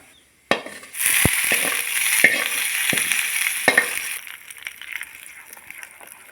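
Mustard seeds and curry leaves crackle and sizzle steadily in hot oil for a chutney tempering, loud and close, with sharp pops and a faint clink near the start and the hiss easing toward the end.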